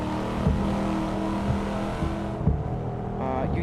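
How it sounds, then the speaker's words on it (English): A racing video game car engine hums steadily with a tonal drone and occasional revs and gear-shift bumps, played during a livestream of sim racing titles such as BeamNG or Assetto Corsa Competizione. "Oh, the engine is too loud?"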